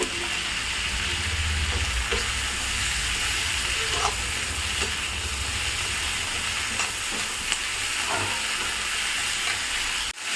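Mint and chutney ingredients sauté in a pan on the stove, a steady close sizzle and hiss with occasional stirring scrapes and taps, no voices.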